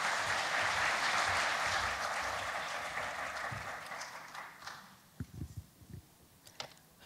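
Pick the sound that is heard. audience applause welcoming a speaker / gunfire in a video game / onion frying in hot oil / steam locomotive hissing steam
audience applause welcoming a speaker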